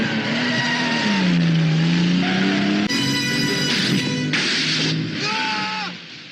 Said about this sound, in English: You'll be using this Aston Martin DB5 with modifications.